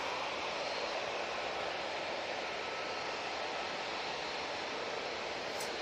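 A Jet2 airliner at Manchester Airport holds a steady, broad engine roar at the start of its takeoff roll, heard from a distance with no voices.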